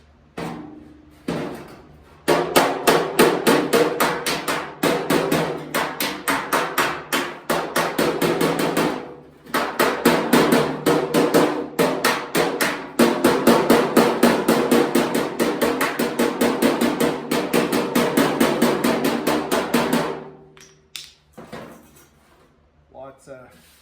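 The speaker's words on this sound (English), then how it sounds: "I can hammer and dolly and smooth it out a little bit." Hammer and dolly work on a 1963 Pontiac fender: long runs of rapid, ringing metallic hammer blows, loud and close, with a few short pauses and a voice near the start and end.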